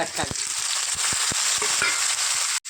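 Chopped tomatoes fry in a pan of bitter gourd curry base, giving a steady loud sizzle with a few sharp stirring knocks, then a brief drop near the end.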